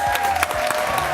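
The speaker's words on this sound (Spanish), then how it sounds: "Fuerte el aplauso para Halls" Brief burst of studio audience applause on a Spanish-language TV show, loud and close, with a steady tone running underneath the clapping.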